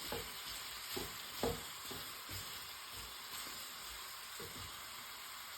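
Chicken korma sizzles and fries in a pan, a steady low crackling hiss with a few soft stirring knocks, close and fairly quiet, with no talking.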